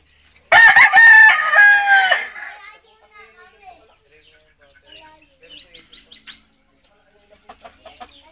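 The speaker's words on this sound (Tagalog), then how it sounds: "Ito natin yung mga inahin natin." A rooster crows loudly and close by, then gives way to quieter clucking and scattered hen calls in the background of a chicken farm.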